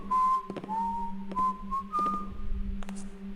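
Guard whistling nearby in the video game Thief Gold, a steady tune of held whistled notes with brief clicks between phrases over a low ambient hum, no talk.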